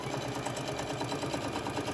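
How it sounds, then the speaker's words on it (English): A sewing machine runs steadily and close up as it stitches fabric pieces together into one long strip for a crossbody phone pouch, with a fast, even mechanical chatter. "I'm gonna just sew these together"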